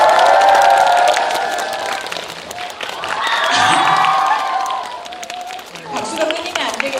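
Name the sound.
applause welcoming the film director and actors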